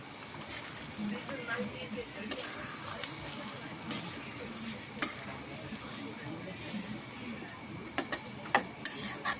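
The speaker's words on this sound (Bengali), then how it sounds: "মশলাটাও পড়বে না, মাছটাও বেশ ভালো করে ভাজা হয়ে যাবে।" Spice-coated hilsa fish frying in a pan gives a steady low sizzle, broken by scrapes and light clicks of a turning utensil, with louder taps toward the end.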